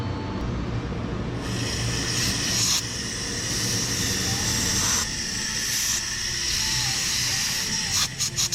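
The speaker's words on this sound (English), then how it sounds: "you want to blow out these holes so that the threads don't get filled with coolant" A compressed air blow gun clearing coolant from bolt holes on a 2016 GMC Sierra during thermostat replacement, giving a steady loud hiss with short interruptions and bursts, no talking.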